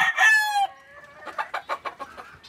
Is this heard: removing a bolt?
no